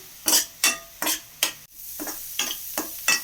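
Onions sautéing in a pan for a banana-flower variety rice, with a regular series of scraping stirs over a soft sizzle, each stroke distinct and close, one brief pause midway.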